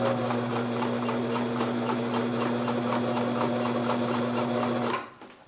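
A Sears Kenmore sewing machine runs a regular zigzag stitch with a steady, humming motor and quick rhythmic needle clatter, close and continuous for about five seconds before stopping abruptly.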